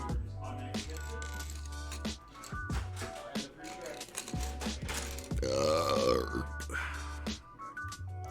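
A man burps loudly several times while building a Lego Artemis Space Launch System model, his belches mixed with talking and faint clicking of plastic parts.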